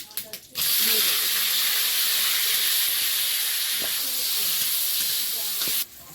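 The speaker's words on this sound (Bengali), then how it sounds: "শুকনো লঙ্কা তেলের মধ্যে সরষে একটু জিরে তেলে" Dried red chilies, mustard seeds and cumin drop into hot oil and burst into a loud, steady hiss that starts abruptly after a brief crackle, holds for about five seconds and then cuts off.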